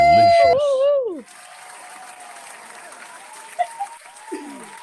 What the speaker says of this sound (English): Listen to that thunderous applause.